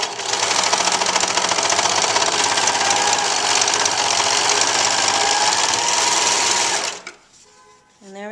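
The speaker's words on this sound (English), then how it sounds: "I'm going to go back to my serger and I'm going to serge off the seam allowances on each side of the pouch." A serger trimming seam allowances off a fabric pouch: a loud, close, continuous mechanical whir with rapid stitching chatter for about seven seconds, then it cuts off sharply into quiet handling noise.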